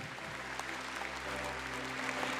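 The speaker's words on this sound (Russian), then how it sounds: "Ну что ж, еще раз бурные аплодисменты." Applause from a forum audience, a steady spread of clapping that swells slightly near the end, heard faintly over a low hum.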